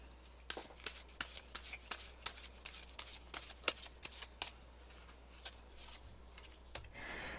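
Tarot cards are shuffled by hand, close and quiet, in a string of soft papery riffles and taps with short pauses between bursts.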